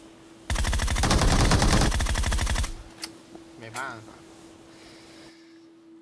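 Rapid automatic gunfire in a shooting video game, a dense loud burst lasting about two seconds, followed by fainter game effects and a low steady hum.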